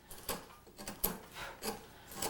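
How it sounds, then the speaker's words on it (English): A large V tool carving a big piece of cottonwood bark, heard as about five short, scraping, rasping strokes at a steady rhythm, close and fairly quiet, with no speech. "You notice I'm just using the side of that big V tool as a gouge, see?"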